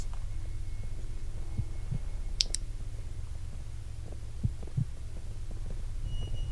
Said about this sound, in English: Why is there a heartbeat already?